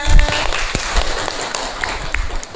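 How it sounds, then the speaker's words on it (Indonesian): A classroom of students gives a short round of applause for a classmate named Bunga, scattered hand claps and taps mixed with background chatter in a lively room. "tepuk tangan dong buat Bunga"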